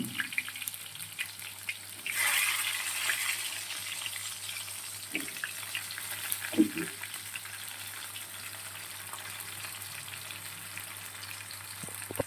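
Soya chunks fry in oil in a wok with a steady, moderate sizzle, a sudden hissing surge early on as they hit the oil, then occasional clinks and stirring sounds as the frying settles.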